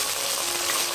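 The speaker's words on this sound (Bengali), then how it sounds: "দিয়ে একটু নেড়ে চেড়ে নিব।" Onion sizzling in hot oil in a pan with ginger and garlic paste, a steady broadband hiss close by with no talk, brief and continuous.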